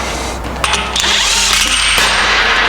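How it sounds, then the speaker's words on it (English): An air impact gun fastening the axle nut on a Nissan 370z, a loud close pneumatic burst of rattling hammering after a brief hiss and clicks, sustained to the end. "Let me get the gun on it."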